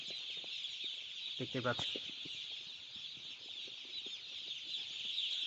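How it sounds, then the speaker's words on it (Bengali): Dense, continuous cheeping from a crowd of day-old Kazi Farm Grade A broiler chicks fills the space, with a person speaking briefly near the start. "একদিনের বাচ্চা আর এ গ্রেডের বাচ্চা"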